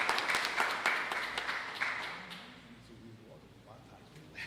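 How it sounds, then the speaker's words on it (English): Crowd applause at an outdoor public announcement about lead pipe replacement, fairly loud at first and then fading away, with faint voices and murmur remaining as the clapping dies down. "Round of applause."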